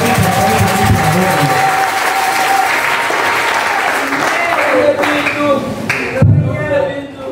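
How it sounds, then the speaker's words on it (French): Church congregation applauding during a Sunday service, steady loud clapping filling the room throughout, with voices and cheers mixed in and a brief swell near the end. "Acclamons pour le Seigneur Jésus."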